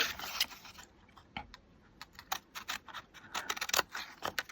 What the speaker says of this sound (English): So cutting something like that right there. Bring in my scissors.